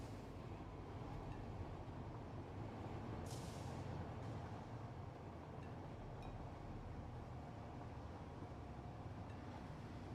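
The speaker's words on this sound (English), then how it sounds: "From the cab of this nuclear power station train." Low, steady rumble of a nuclear power station train running through the video game Satisfactory, heard from the cab, continuous rail and engine drone with a brief hiss partway through.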